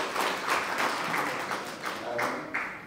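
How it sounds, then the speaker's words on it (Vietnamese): Wedding guests at a Vietnamese reception applaud the two families, a soft steady clapping that swells in waves across the room. "xin quý vị cho một tràng pháo tay nữa để chúc cho hai họ mãi mãi vui vẻ"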